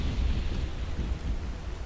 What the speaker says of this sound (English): I don't know if it's the rain